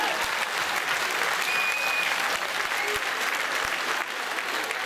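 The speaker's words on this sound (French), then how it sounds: "je vous demande de les applaudir bien fort, Sébastien et ses musiciens" Audience members at a Bain de Bretagne radio crochet singing event in 2014 clap for Sébastien and his musicians, sustained, even applause filling the room without pause, dipping a little toward the close.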